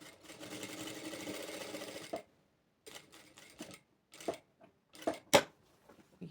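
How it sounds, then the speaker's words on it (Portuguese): A sewing machine stitches an appliqué patch onto a dish towel: a steady two-second run of rapid stitching, then short stop-start bursts and clicks, close and fairly quiet. "Continua a costura."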